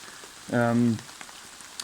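Rain falls in a forest with a soft, steady patter, briefly overlaid by a short tonal voiced sound near the start.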